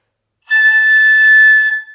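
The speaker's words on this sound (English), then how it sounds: "Sometimes if we blow a little too hard, we could make a sound like this." A steady, shrill, high-pitched tone from an overblown flute headjoint holds for about a second, bright and piercing, with no voices.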